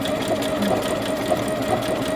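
Sewing machine embroidery-stitching the edge of a fabric heart on a towel, a fast even mechanical whir with rhythmic needle ticks, close and steady with no talking.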